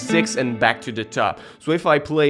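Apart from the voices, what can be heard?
No everyday noises stand out.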